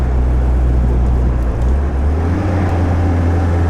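A 1950 Sunbeam Talbot is driven on a fall test drive, its engine a loud, steady low rumble heard from inside the car with constant road noise and no break.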